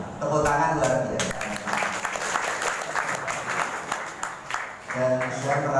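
An audience at a Maulid Kebangsaan evening gathering at the Al Aziz Islamic boarding school in Jatiasih breaks into a burst of applause, with a voice speaking before and after the clapping.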